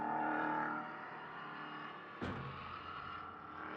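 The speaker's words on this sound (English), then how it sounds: "these Nova Protos making a wonderful noise" Nova Proto prototype race cars at Mugello circuit roar past at a distance, one engine note fading before a sharp whoosh as another car passes, then its engine climbing again.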